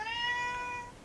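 A pet cat gives one drawn-out, clear meow lasting about a second, close to the microphone, with no talking over it.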